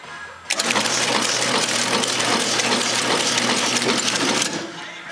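A Markem TA-726 garment label printer prints labels, giving a loud, steady mechanical whir with a fast, even chatter. It starts abruptly, runs without a break for about four seconds, then stops.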